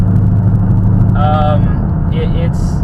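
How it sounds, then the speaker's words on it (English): A 2011 Ford Mustang GT with loud catback bomb exhausts drones heavily at cruising speed, a deep steady rumble throughout, with a voice speaking over it. "this car has pipes, not X-back, catback bomb exhausts on it, which make it loud"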